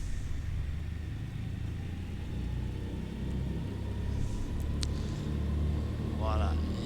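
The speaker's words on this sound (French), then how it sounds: "Je vais remonter les moteurs." Douglas DC-3 piston engines rumble low and steady as they run up, heard from inside the aircraft, with a voice speaking faintly over the drone.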